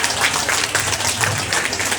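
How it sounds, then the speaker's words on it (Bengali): An audience at a prize-giving ceremony claps in dense, continuous applause that stays even from start to finish. "একবার জোরে হাততালি হয়ে যাক।"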